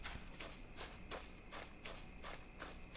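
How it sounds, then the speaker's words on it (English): Repeated footsteps in a werewolf-hunting survival video game, a steady walking rhythm of soft thuds running throughout at moderate volume over a constant background bed. "I heard footsteps."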